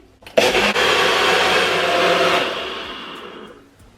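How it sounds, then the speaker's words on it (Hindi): An electric blender grinds egg, saffron and milk together for an egg semolina halwa, a loud whirring roar that kicks in abruptly, holds steady for about two seconds, then spins down and fades. "इसको हम क्या करते हैं कि ग्राइंड करते हैं अच्छे से। अंडा, ज़ाफ़रान और जो है दूध, ये सब चीज़ें अच्छे से मिक्स हो जाएं।"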